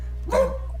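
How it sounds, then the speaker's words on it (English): A single short bark from a small pet dog named Eddie, close and sudden, over a low steady hum with no talking. "Sorry, that's my dog."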